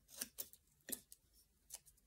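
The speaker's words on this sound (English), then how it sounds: "just take your scissors and just cut off the excess" Scissors snipping off excess masking tape, a few quick, crisp cuts at close range, faint and irregular with no talking.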